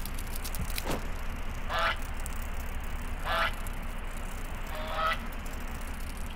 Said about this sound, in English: That's goose.